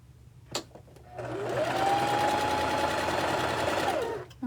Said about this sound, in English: I don't have a fancy sewing machine. It's a regular old sewing machine.